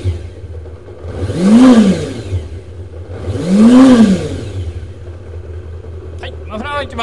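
A late-model Kawasaki Zephyr χ motorcycle in tiger colour runs at a dealership, two swelling rev blips rising and falling over a steady idle, close and fairly loud, with voices briefly at the end.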